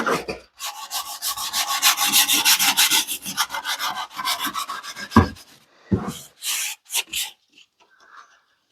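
A wire brush scrubs a Ford Ranger brake drum with rapid, harsh rasping strokes, close and loud, for about five seconds. A few shorter scrapes follow before it trails off into quiet.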